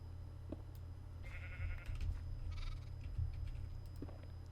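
Faint sheep bleats in the video game Minecraft come and go over a low hum and light clicking, quiet and somewhat distant, with no voices.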